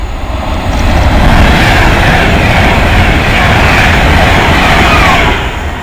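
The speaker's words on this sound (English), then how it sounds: "here comes the delayed 1S48. No, the delayed Manchester train" A delayed Manchester passenger train roars through Nuneaton station, a loud continuous rumble and wheel-on-rail rush swelling early and holding steady before fading slightly as it passes close by.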